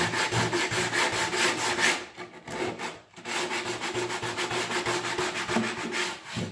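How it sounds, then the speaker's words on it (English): Coarse sandpaper rubbed by hand along the edges of an old wooden dresser being refinished, a steady rapid back-and-forth scratching that runs continuously with two brief pauses, close and fairly loud, no talking. "I'll take this coarse sandpaper and I will finish sanding the edges down"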